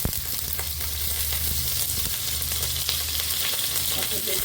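Potato pieces sizzle and crackle in hot oil for cauliflower kuli pitha, a loud, continuous hiss with occasional pops and a low bubbling underneath.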